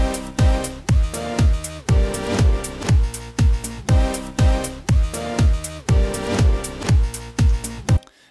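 A reversed sample played as chords in Logic Pro's Quick Sampler swells up repeatedly, each chord rising then cutting off abruptly in a steady rhythmic pattern, loud and alone with no voices.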